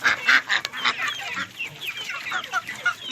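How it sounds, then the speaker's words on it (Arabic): Farm chickens cluck and squawk busily as they are fed, a dense, lively chorus of overlapping calls close by, with no talk. "هعلف بقى الطيور كده"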